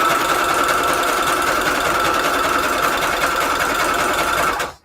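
A sewing machine in need of oiling runs steadily and alone for nearly five seconds, a close, loud mechanical whir with a faint grinding edge, stopping abruptly at the end.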